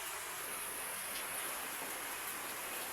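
Steady rain falls behind a house during a typhoon, a continuous, even hiss with no breaks, faint and without voices.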